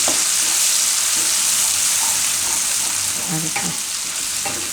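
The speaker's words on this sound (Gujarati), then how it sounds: "તો આ બધું થોડીક વાર તેલમાં ફેરવી લેવું" Green turmeric, garlic and chillies sizzle steadily in hot oil for a Gujarati methi-brinjal curry, with a continuous close fry hiss and occasional scraping stirs; a voice speaks briefly.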